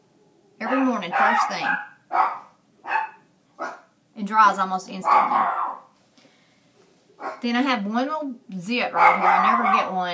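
Someone talks throughout while a dog barks nearby in repeated short yips and barks, partly overlapping her voice.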